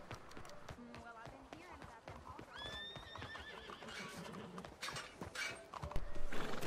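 In the video game Red Dead Redemption 2, a horse gallops with rapid clip-clopping hooves and lets out a clear, rising whinny midway, while the player speaks over the game sounds.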